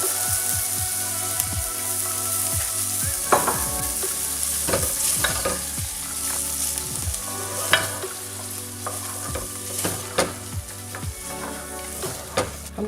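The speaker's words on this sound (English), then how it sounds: "we're just going to saute these onions" Onions sautéing in butter in a preheated pot, a continuous sizzle with frequent spoon scrapes and taps as they are stirred, close and fairly loud throughout.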